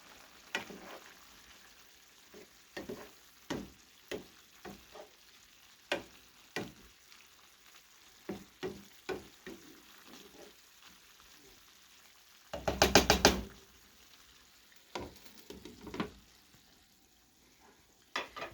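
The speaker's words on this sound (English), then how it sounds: "I'm going to give that a little bit of a stir." Cabbage cooking in a pan being stirred: sparse utensil taps and scrapes over a faint, low sizzle, with one louder clattering burst midway, otherwise quiet and intermittent.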